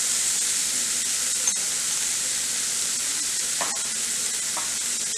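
Mixed vegetables frying in a pan while being stirred, a steady close sizzling hiss throughout with a few soft scraping touches of the spoon.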